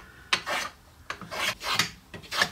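Hand plane shaving a wooden pencil blank, three long rasping strokes in a steady rhythm, close and fairly loud with no voices.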